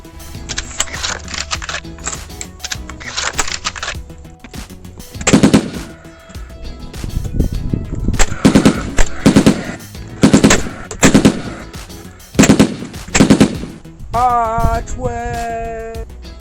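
A nail gun fires in quick bursts of sharp, close shots, fixing a plasterboard archway in place, with pauses between volleys and a brief squeaky sound near the end.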